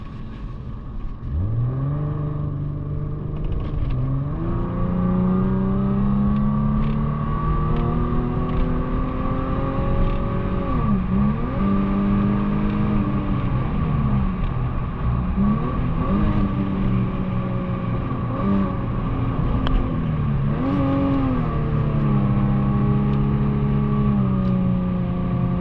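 Infiniti G37 with its muffler and resonator deleted, driven on the interstate: a loud, raspy exhaust drone that rises and falls through repeated revs and gear changes, heard from inside the car with no talking.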